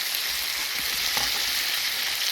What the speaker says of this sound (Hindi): इसमें हम फ्राई कर लेंगे टमाटर।